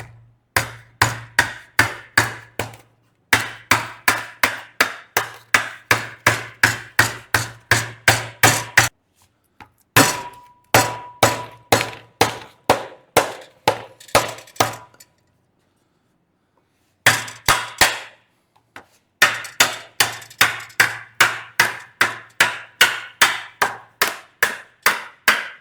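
Rapid bursts of hammer blows strike a metal strip held in a bending die, each run a quick even series of sharp ringing hits, broken by short pauses, close and loud with no talk.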